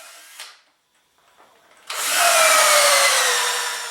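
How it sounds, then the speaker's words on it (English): A power drill drives freehand pocket hole screws into a woodworking workbench. After a couple of quiet taps and handling noises, the drill whirs in loud and close and runs steadily for about two seconds. "Here I'm demonstrating the long lost technique of freehand pocket hole screws."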